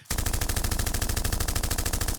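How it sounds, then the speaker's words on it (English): A cheap gun alarm blares a recorded burst of rapid machine-gun fire, a steady loud rattle of evenly spaced shots that runs continuously for about two seconds with no talking. "The gun alarm just plays gunshot noises."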